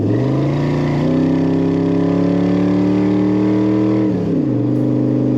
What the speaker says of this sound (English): And there's that great exhaust sound.